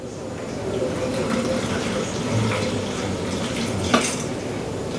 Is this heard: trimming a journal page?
no